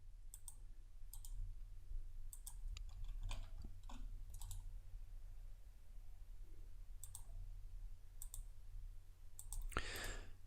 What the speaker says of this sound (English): So I'm just right clicking to place each of these.